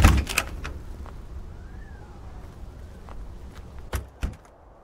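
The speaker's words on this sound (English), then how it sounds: "Just get inside and lock the door." Door in the horror video game Nightwatch pulled shut and locked, a couple of sharp knocks and clunks near the end over a low ambient rumble, with a soft thud at the start.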